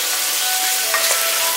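Beef short ribs browning in a hot pan, with a steady, loud sizzle of frying meat and a couple of faint stirring scrapes, no talk.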